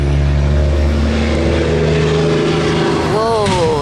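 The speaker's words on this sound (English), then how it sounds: "Whoa, that's a big dump truck." A big dump truck passes on a road near a flower garden at rush hour, a loud, steady low engine rumble with a rising whine toward the end, and a voice speaks over it.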